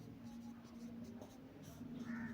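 Chalk or a marker scratches across a classroom board in short, faint strokes. A quiet voice speaks low in the background.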